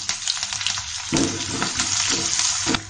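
Onion and green chilies sizzle steadily in hot oil with cumin seeds and curry leaves for a Goan potato poha, a dense crackling fry with a few louder spatters and stirring bursts, close and without talk.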